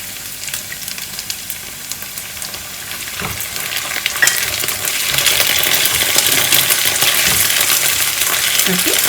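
Ginger garlic paste fries with onions in a hot pan, giving a loud, continuous sizzle. A few clinks and scrapes of stirring break through, and the hiss grows fuller partway through.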